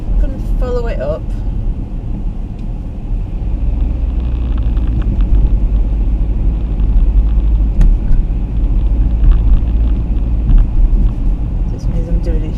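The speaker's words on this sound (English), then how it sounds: "I'm doing a huge drive around the block" A car drives around a block of hotels and guest houses in foggy Blackpool, heard from inside as a steady low engine and road rumble throughout. A voice speaks briefly near the start.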